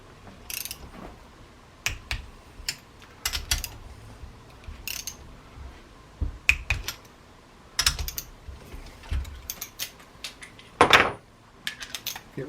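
A torque wrench tightening engine bolts on a 1969 Honda CL160 during an engine rebuild, sharp scattered clicks and metallic taps close by, with a ratcheting burst near the end, no talk.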